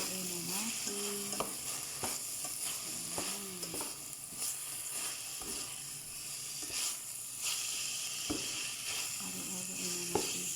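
Mashed potato being mixed with ground meat in a hot pan, giving a soft continuous sizzle with repeated scraping and stirring strokes from a spatula.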